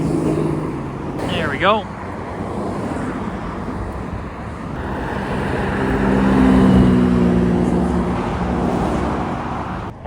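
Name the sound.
new Koenigsegg supercar driving past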